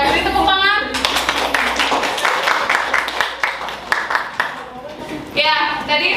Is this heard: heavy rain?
no